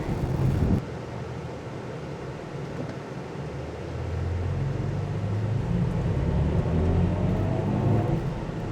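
A 2023 BMW i4 M50 electric car accelerates in sport mode from inside the cabin, with a steady low synthetic drone that swells and climbs in pitch over road and wind rumble, and no voices.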